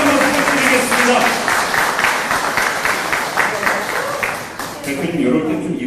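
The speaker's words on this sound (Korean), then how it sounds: "당직자분들 큰 박수와 함성 다시 한번 부탁드리겠습니다" Party officials at a party members' and press meeting applaud and cheer steadily, a dense, sustained wash of clapping and crowd noise that tapers slightly toward the end.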